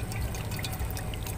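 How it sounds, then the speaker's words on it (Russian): Water runs from an outdoor street tap in Turkey, a close, steady splashing stream with small drips and gurgles, alone with no talk. "Мы же не привыкли в Турции пить с крана, с ули на улице."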